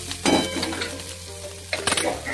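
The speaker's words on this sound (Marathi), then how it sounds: "हिरवी मिरची टाकायची, परतून घ्यायची त्याला" Green chili and turmeric sautéing with onion in a pan for a puffed-rice poha dish: a steady sizzle broken by scraping stirs of a utensil against the metal, with a couple of louder clatters.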